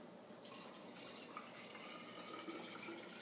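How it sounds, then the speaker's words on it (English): Tap water running steadily into a water kefir mix in a kitchen setting, a continuous close splashing pour with light dripping, no talking. "Now you add water to the mix."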